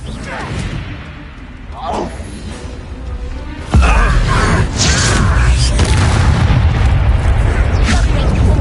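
A fiery Confringo blast spell from a Harry Potter video game erupts with a heavy booming burst and continues as a loud rumbling roar, with game voices talking around it.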